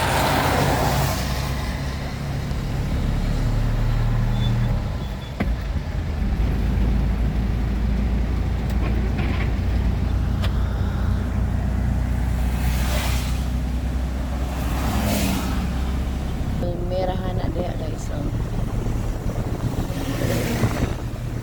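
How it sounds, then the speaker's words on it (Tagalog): A vehicle drives a highway toward Bukidnon with a constant loud rumble of road and wind noise inside the cabin and a few passing swells from other traffic. "Dito na kami sa highway."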